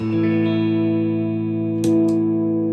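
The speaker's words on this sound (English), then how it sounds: "it shaves off the bottom end and gives you more of a honky sound" A sustained electric guitar chord rings out with a nasal, midrange-heavy boosted tone, followed by a couple of short scratchy strums near the end.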